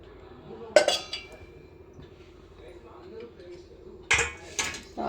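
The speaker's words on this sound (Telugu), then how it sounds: "ఇప్పుడు స్టవ్ ఆన్ చేసుకొని ఒక చిన్న గిన్నె పెట్టుకోవాలి." A small metal pot goes down on a stove at home with a bright clink. A few seconds later, sharper clattering clinks of cookware and utensils follow, close by over a quiet room hum, while soft speech carries on in the background.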